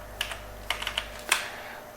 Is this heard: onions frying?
no